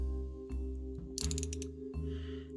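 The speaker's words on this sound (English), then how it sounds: "Those are ratcheting knees, and they can double bend." Ratcheting knee joints on a Super Robot Chogokin robot action figure clicking through their notches, a few distinct mechanical clicks and a quick burst of rapid ratchet ticks, close up over a low steady hum.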